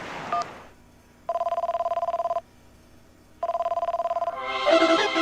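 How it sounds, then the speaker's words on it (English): A telephone in a Nintendo Direct presentation rings twice, each a clear trilling burst about a second long, separated by a short quiet gap and followed by a busy burst of music. "I didn't expect the phone to ring."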